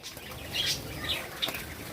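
White Java sparrows in a colony cage flutter their wings in soft bursts and give a few brief, high chirps, all close and fairly quiet against a light background hiss.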